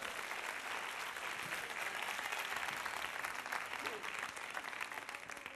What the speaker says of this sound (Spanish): Vamos a darle un fuerte aplauso a mi compañera.